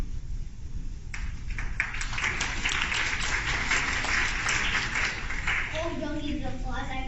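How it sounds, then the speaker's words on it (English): An audience at a keynote talk bursts into scattered applause, moderately loud and lasting several seconds before a voice speaks over it. "Oh, don't need the applause."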